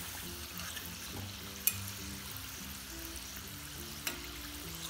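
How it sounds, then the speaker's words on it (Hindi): Samosas frying in a pan of hot oil, a steady low bubbling sizzle that runs throughout at moderate level, with two brief sharp ticks along the way and no voices. "इसको हम लोग पहले 2 मिनट तक ऐसे ही पकने देंगे। एक साइड रोस्ट होने के बाद फिर उसको हम लोग पलटाएंगे।"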